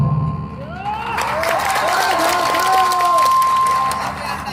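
Crowd at an outdoor Jharkhand political rally, the Khatiyani Mahajutan maha rally at Tata Sijua, breaking into sustained clapping and cheering that swells and holds for several seconds, with a speaker's amplified voice over the PA.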